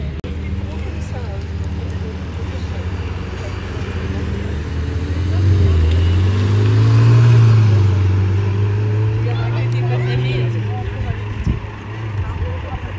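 A grey Ferrari 488 GTB sports car at a car-spotting day in Gérardmer, its engine swelling in a passing rise and fall mid-clip over steady roadway noise, with someone talking throughout.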